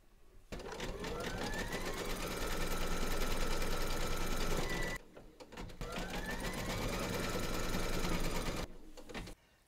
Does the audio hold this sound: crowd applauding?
no